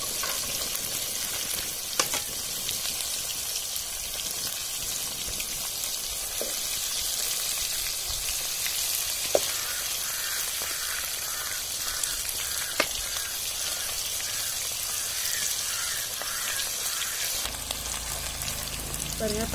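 Chicken pakora fries in hot oil in a steady, continuous sizzle that holds close and even throughout, with a few faint clicks and no talking over it.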